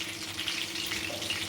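Crispy chicken fries in a pan with a steady, close hiss of oil. The sizzle stays even and unbroken, with no talk over it.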